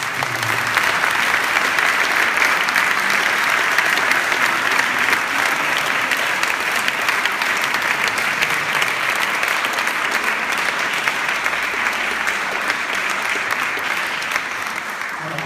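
A conference audience claps steadily and loudly for speakers for a long stretch, sustained applause that stays even throughout.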